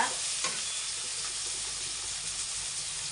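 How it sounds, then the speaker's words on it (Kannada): Brinjal frying in oil in a pan, a dense, even close sizzle and hiss throughout, with a faint stir or scrape near the start and no talking. "ಸ್ವಲ್ಪ ಫ್ರೈ ಆಗಿದೆ ಬದನೆಕಾಯಿ ಈಗ"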